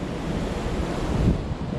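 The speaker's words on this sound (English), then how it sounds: "It's going to be very windy today" Strong outdoor wind buffets the microphone in a dense, roaring rush that fills the whole short stretch, with no one talking.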